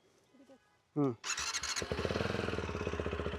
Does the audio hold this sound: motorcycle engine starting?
yes